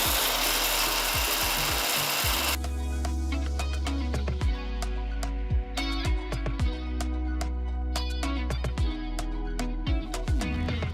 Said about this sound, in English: Add half teaspoon of hing or Asafoetida powder, about 1 teaspoon of jaggery, and this is optional, and grind it to a nice fine powder.